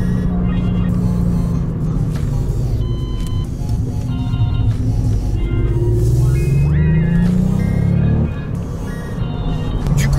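A VW Up GTI with a 1-litre turbo engine accelerates, its engine note rising and falling in pitch as it pulls through the gears, loud and steady from inside the car, with someone speaking over it.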